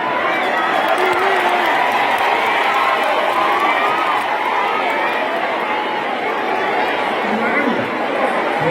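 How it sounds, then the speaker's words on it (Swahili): Large crowd at an outdoor public event clapping and cheering in a dense, continuous roar of applause mixed with shouts and chatter, loud and sustained. "mpigie makofi."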